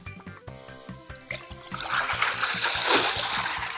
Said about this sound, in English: All the water just came out.